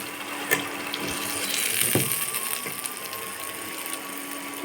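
Paneer frying in a pan as a Paneer tikka dum biryani is prepared, giving a steady, close hiss of sizzling oil with a few faint clinks and no talking.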